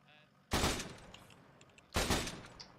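Two loud, sharp bursts of gunfire in the Arma military simulation game, about a second and a half apart, each trailing off with a short echo over a quiet background.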